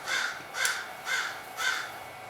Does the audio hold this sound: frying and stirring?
no